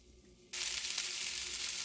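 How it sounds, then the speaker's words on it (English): Cubed onions, green peas and green peppers dropped into hot oil burst into a loud, steady sizzle after a brief quiet moment, then keep frying evenly and close by. "I'm going to saute 3 vegetables. 1, the cubed onions, green peas and green peppers."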